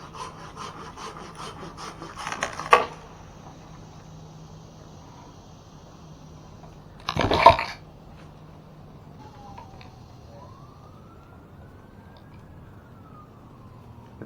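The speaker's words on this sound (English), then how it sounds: "I'm just gonna handsaw this." A handsaw cuts through a limb of a dying oak during tree removal, giving two short, loud bursts of rasping strokes separated by quieter stretches, with faint background noise and no talk.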